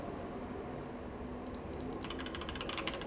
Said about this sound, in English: I'm just typing random characters